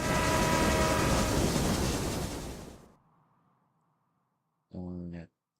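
Trains running in the video game Railway Empire, a loud sustained rumble of rolling wagons that dies away into silence, followed by a short sharp horn-like tone, with no voices.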